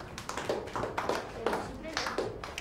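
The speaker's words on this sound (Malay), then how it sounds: "Tepuk tangan." Primary-school pupils in a classroom clap for a group, scattered uneven claps of modest loudness mixed with children's voices talking over them.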